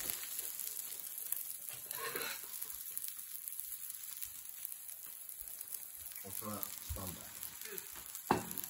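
Food turned over and pan-fried crackles in a steady, close sizzle with small bursts and stirring clatter, while people talk quietly over the cooking.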